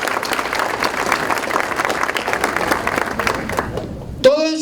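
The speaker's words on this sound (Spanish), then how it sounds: "Entonces yo pido un aplauso" Steady, dense applause from a large audience at a lecture, loud and sustained, fading slightly before a voice cuts in at the end.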